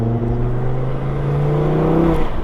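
An 800 hp big-turbo stage 5 Audi TT RS engine roars steadily and loud, its pitch rising gradually as it accelerates hard, with no talking over it.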